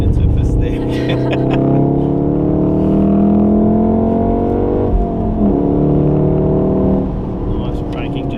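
A Golf R engine pulls hard on a race track at a Wakefield trackday, rising in pitch as it accelerates, loud and close inside the car, while an instructor talks over it.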